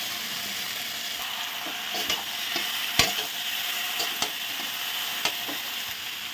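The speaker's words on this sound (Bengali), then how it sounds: "খুব সুন্দর করে এটাকে কষাবো বেশ কিছুক্ষণ ধরে" Figs and potatoes stir-fry with spices and chillies in a pan, a continuous close sizzle broken by sharp spoon knocks and scrapes at irregular intervals.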